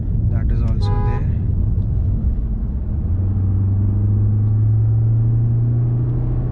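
An engine rumbles low and deep and swells louder as the vehicle launches, with a brief tonal beep near the start and a voice speaking over the opening.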